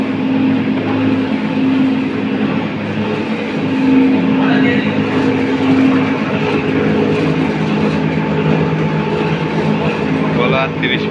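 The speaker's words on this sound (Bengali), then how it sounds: "দেখুন 9 ভোল্টের মেশিন, সুন্দর চলছে।" A new-model 9-volt Gola 30/5 motor-system machine runs with a steady, loud mechanical hum and rumble that stays constant throughout, with a faint voice in the background.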